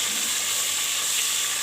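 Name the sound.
chicken frying in a pan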